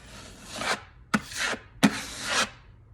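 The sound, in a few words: scraping heavy Tuscan wall texture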